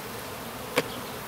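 Honey bees near wax frames make a soft, steady buzzing hum, broken by one brief sharp tap near the end.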